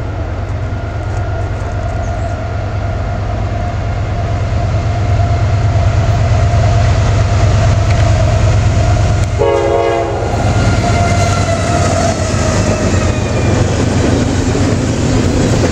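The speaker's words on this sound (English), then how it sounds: "CSX eastbound train approaching us in Fairview," A CSX eastbound freight train rumbles steadily close by in Fairview, Pennsylvania, with a constant low roar, and a horn blares partway through while wheels clatter on the rails.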